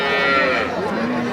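A black cow at a cattle market lets out one loud, close, drawn-out moo that fades toward its end.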